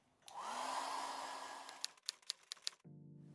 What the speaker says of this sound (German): Ich verwende jetzt hier einen Föhn